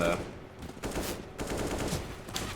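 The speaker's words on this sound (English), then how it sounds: "some incredible shots from s1mple there on the bomb site" AK rifle fire in Counter-Strike at a bomb site, several sharp bursts of shots across a busy game soundscape with a steady ambient bed, fairly quiet overall.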